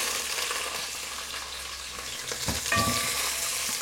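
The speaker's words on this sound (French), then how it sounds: "Là, on va les faire suer un peu." Onions sweat in a pan with a steady, broad sizzle, and a brief clatter of stirring comes near the end.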